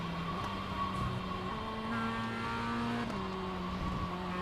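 Race car engines in the iRacing simulator drone steadily at close range, several cars' harmonic whines layered together and shifting pitch as they run down a straight, with no talk over them.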